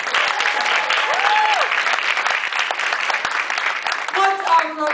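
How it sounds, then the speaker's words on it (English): A comedy audience at Rutgers University applauds for Nagin, sustained dense clapping filling the room for about five seconds, with a few whoops and cheers rising near the end. "How about a huge round of applause for Nagin?"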